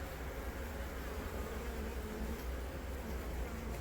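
Large honeybee colony being removed from a wall, a dense, steady buzz of many bees swarming close by, droning continuously without breaks and no voices over it.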